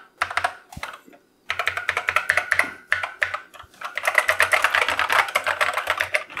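Rapid, uneven clatter of Acorn Electron computer keyboard keys being pressed, close and clear, in quick bursts separated by a short pause.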